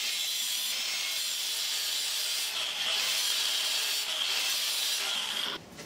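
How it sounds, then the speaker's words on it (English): A cutting blade, likely on a grinder, slicing into a window regulator clutch pad, giving a continuous high-pitched rasping whine with a brief surge midway before it cuts off near the end. "I need to cut just a little bit into this clutch pad."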